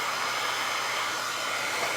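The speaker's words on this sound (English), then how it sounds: "I'm gonna hit this with the blow dryer so we can outline." A blow dryer runs steadily and loud as it heats resin art on a glass, a constant rushing hiss with no breaks and no talk.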